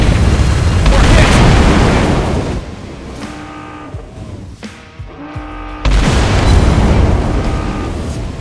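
A torpedo strike explodes against a ship during a World of Warships battle, a loud broad boom that rumbles for a couple of seconds, fades under tonal game alerts, then swells into a second heavy blast.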